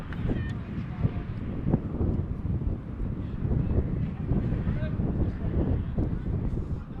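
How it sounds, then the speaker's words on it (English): Steady low rumbling buffeting of wind against a microphone at an outdoor baseball game, continuous throughout with faint talk underneath. "we apologize if there's any wind interference here"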